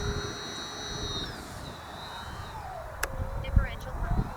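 Twin electric motors of an RC Avios Twin Otter twin-engine STOL model plane spin up to full throttle, a steady high whine with a falling pitch sweep midway, heard outdoors over wind noise and handling bumps.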